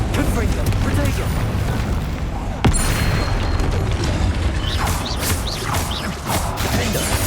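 A Confringo fire-bolt spell bursts with a booming blast during a troll fight in Hogwarts Legacy, one sharp impact amid continuous rumbling combat noise, crackles and repeated spell hits.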